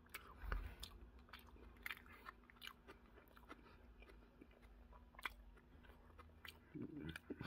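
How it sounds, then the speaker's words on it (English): Someone chewing pizza during an eating challenge, close and quiet with soft irregular bites and crunchy mouth sounds spread across the stretch. "Still chewing."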